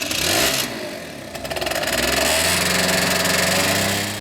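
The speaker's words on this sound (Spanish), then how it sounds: "Es mi pequeño pero veloz amigo, la motocicleta." A small motorcycle engine revs and accelerates, a loud continuous buzzing drone that climbs steadily in pitch and holds close and strong throughout.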